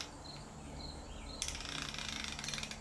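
Rapid clicking from a Duratech 90-tooth, 12-inch, 3/8-inch-drive ratchet starts partway through, a dense, steady ticking close up and fairly quiet over a low background hum.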